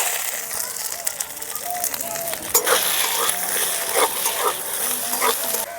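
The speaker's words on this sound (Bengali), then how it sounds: "হালকা একটু ভাজার পর মটরশুঁটিগুলো দিয়ে দিচ্ছি" Green peas frying in a pan with ginger and green chilli paste, a steady hiss of sizzling with scraping stirring strokes, close and fairly loud, no talking.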